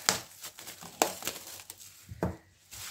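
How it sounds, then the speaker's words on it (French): Plastic cling film being wrapped around a ball of fresh homemade spinach pasta dough, giving sharp crinkly crackles in a few separate bursts, close and quiet, with no talking. "Je prends du film alimentaire, hop, et je mets la pâte à l'intérieur."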